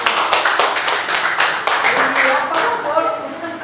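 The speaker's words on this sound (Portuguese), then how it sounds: "Então pode soltar, dar um aplauso ao Senhor Jesus." A church congregation applauding, loud close clapping that is dense at first, then thins into scattered claps while voices carry on beneath.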